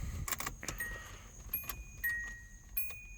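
Keys jangle and clink near and fairly quiet in the ignition of a Datsun 280ZX Turbo 2+2, a few short metallic rattles and taps spread over a few seconds, with faint electrical tones behind them.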